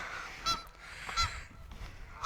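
Geese nesting outdoors near the shore at Mackinaw City give two distinct honks about a second apart, moderately distant, over a low wind-like outdoor hiss with no talking.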